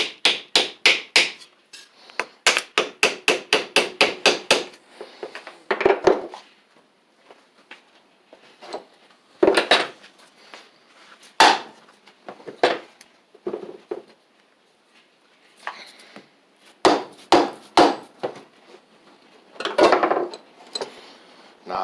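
Metal hammer blows strike a Briggs & Stratton engine's flywheel to knock it loose, coming in rapid clusters of sharp taps separated by pauses and irregular single knocks.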